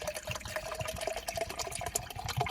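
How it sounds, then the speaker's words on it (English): Water pouring into a drinking bottle before adding pre-workout powder, a steady continuous splashing fill with a rising tone, close and moderately loud, with no talking over it. "Let's pour the water first."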